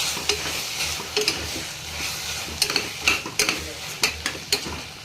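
A broccoli side dish is stirred in a sizzling pan, the frying hiss broken by repeated quick metallic scrapes and taps of a spoon, close and clear.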